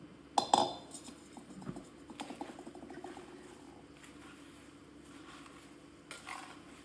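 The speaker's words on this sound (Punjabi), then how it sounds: "ਕੜਛੀ ਦੀ ਸਹਾਇਤਾ ਦੇ ਨਾਲ ਤੁਸੀਂ ਇਹਨੂੰ ਇਸ ਤਰ੍ਹਾਂ ਹਿਲਾਈ ਜਾਣਾ" A ladle stirs mango and chili pickle in oil, giving soft, intermittent scraping and clinks. One sharp knock comes near the start, and the rest is quiet stirring with faint background noise.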